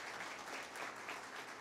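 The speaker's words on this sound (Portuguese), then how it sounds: "vou pedir uma salva de palmas para ela" Audience applause for a state coordinator at the opening ceremony of a solar energy industry meeting, a steady, dense wash of clapping from a crowd, even and continuous with no voice over it.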